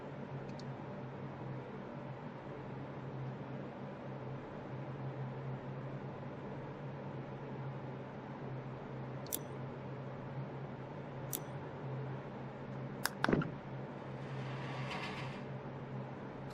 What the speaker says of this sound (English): That, it just sounds like white noise. It doesn't really sound like music.